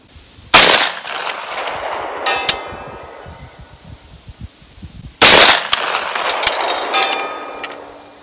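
A 10mm pistol fires AAC 10mm XTP ammunition outdoors: two sharp, very loud shots several seconds apart, each followed by a long echoing ring.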